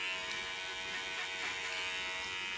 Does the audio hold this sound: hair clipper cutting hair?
yes